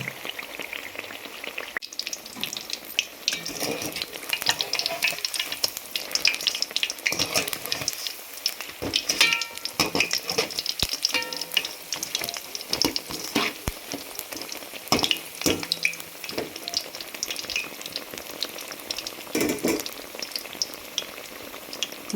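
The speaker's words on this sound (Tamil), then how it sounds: "அப்புறம் மீடியமாக வச்சுக்கிட்டு பரட்டி இப்படி போட்டு பொரித்து எடுக்க வேண்டியதான்" Potato bajji deep-frying in hot oil on medium heat, a steady crackling sizzle with bursts of popping and occasional clinks as pieces are turned, no one talking.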